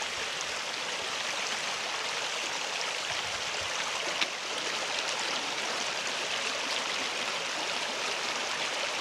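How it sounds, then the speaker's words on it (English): A mountain creek rushes over rocks beside a trail, a steady, full hiss of flowing water that fills the whole stretch with no talk. "We are walking beside of Grag Prong, the first of 3 creeks on this end of the trail that we'll encounter today."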